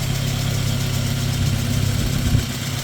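A gray Audi 80 with a 1.8-litre mono-injection petrol engine, also set up to run on gas, idles steadily and close by with a smooth, even low hum and a slight swell toward the end.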